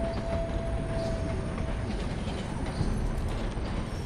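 Horses in the video game Red Dead Redemption 2 clop along in a continuous patter of hoofbeats over a steady rumbling background, moderately loud and without speech.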